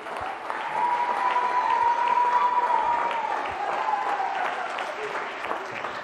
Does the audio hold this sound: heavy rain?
no